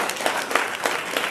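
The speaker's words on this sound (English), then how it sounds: "Let's give all of our speakers a nice big round of applause." Guests at a coach's retirement party applaud the speakers, a lively round of clapping from a moderate crowd with a few louder claps popping out, steady and close.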